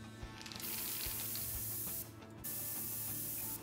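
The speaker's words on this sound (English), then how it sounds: "Can I spray it, please?" A spray can in the Prison Simulator video game hisses in two sustained bursts separated by a brief pause, close and steady, with no talking.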